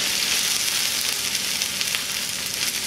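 Food frying in oil in a pan, a steady, close hissing sizzle with crackly texture that holds evenly throughout without pause and no talking.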